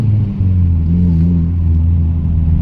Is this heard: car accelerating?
yes